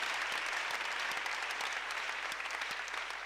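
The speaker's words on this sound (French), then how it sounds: "Applaudissons pour le Seigneur." A church congregation claps together in sustained, dense applause at a Thursday evening worship service, steady and loud throughout with no voices rising above it.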